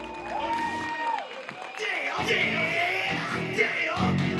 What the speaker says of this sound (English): Ladies and gentlemen, a round of applause for the problem child, Jake Paul.